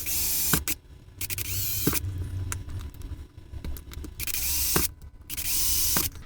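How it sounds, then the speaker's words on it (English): A power drill bores pilot holes in a small wooden block in several separate whirring bursts with brief pauses, close and moderately loud, with faint clicks and rattles between. "now I've got a small wooden block and I can drill some pilot holes"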